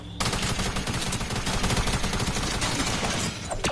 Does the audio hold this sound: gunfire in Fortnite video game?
yes